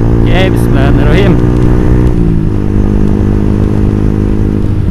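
Motorcycle engine fitted with an aftermarket exhaust, revving and holding a steady loud drone with rising pitch bursts early on, close by, with a voice talking over it during a casual drag race outing.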